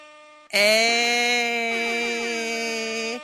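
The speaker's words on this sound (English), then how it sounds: "It's an air horn sound." A loud, blaring air horn blast sounds once, a sustained brassy tone held for nearly three seconds before cutting off.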